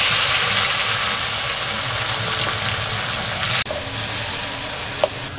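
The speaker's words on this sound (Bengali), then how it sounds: "টমেটোটা একটু ভেজে নিয়ে" Chopped tomato fries in a pan with whole cumin and chili, a continuous close sizzle with a faint stirring rattle and a sharp click near the end.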